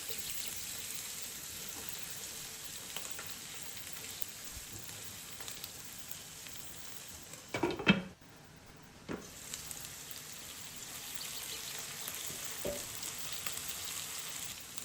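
Ingredients seasoned with salt and black pepper are stirred in a frying pan, giving a faint, steady sizzle with a few scattered scrapes and one louder clatter midway.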